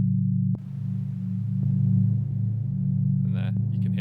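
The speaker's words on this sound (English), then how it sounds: "So this is just a pretty simple sine wave" A simple synthesized sine wave drone hums steadily, a clean low sustained tone with a few faint clicks and brief higher blips near the end.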